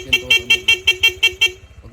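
Aftermarket PIA horn on a Honda Click V3 scooter blares in about eight rapid, evenly spaced honks, loud and close, then stops.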